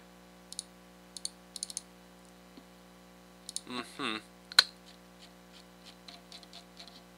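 Soft, scattered clicks of a computer keyboard being typed on, coming in small clusters with brief pauses and one brief spoken moment in between, all fairly quiet over a steady low hum.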